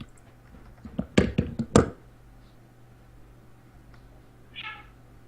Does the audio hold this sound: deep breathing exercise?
no